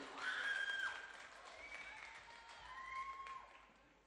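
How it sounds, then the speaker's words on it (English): Soft applause from a school music night audience at Bream Bay College, fairly faint clapping that swells and eases, with voices and whistle-like tones mixed in. "give her a round of applause"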